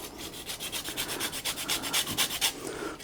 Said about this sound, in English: So I'm just going to add the zest of a little bit of lemon. This is just a grater.